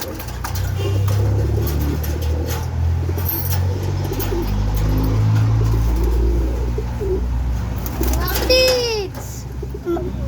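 Pigeons coo with low, throaty calls under a steady rumble of nearby traffic, while a child and other people talk over them.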